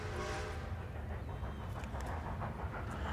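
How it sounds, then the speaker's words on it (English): In the video game Red Dead Redemption 2, a train approaches with a loud, steady rumbling clatter of rails and wagons, a continuous heavy roar throughout with no talk. "It's always a train."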